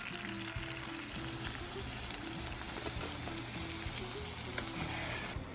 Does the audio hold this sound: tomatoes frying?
yes